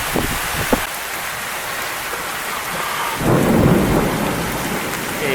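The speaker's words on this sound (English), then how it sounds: "as severe thunderstorms go, this is mostly just rain so far" A severe thunderstorm during a tornado warning in Saginaw, Michigan: steady heavy rain hisses throughout, with a brief crack early on and a louder, deeper rumble of thunder swelling past the midpoint, no voices.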